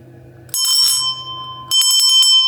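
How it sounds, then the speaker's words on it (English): Santa bell from a Christmas Santa outfit shaken twice, each burst a bright jingling ring close up, separated by a brief pause, alone with no talk. "This is a Santa bell,"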